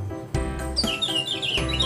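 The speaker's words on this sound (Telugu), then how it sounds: "విండో లో నుంచి మనకి ఇట్లా ఈ బర్డ్ అనేది సౌండ్ చేస్తూ కనిపిస్తుంది" Electronic bird chirps and tweets from a decorative fairy castle clock: bright repeated calls over about two seconds, fairly close and clear with no talk.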